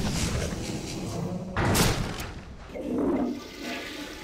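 Toilet flush from a Skibidi Toilet episode, a sustained rushing, gurgling water sound with a sharp thump or slam near the middle and a swirling drain-down afterward, fairly loud with no talking.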